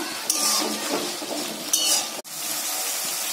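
Coriander paste being stirred and fried into a mushroom masala, a dense steady sizzle with two brief spoon scrapes and a sudden sharp clack partway through, close and loud without speech.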